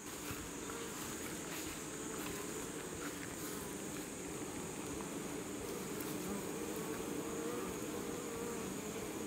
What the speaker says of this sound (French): c'est un contact avec les abeilles. C'est respirer l'air de la ruche, c'est sentir leurs vibrations